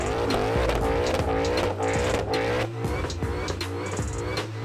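A Ford Mustang GTD engine revs hard and repeatedly, loud and close, with sharp rising sweeps, tyre squeal and skidding woven through the run.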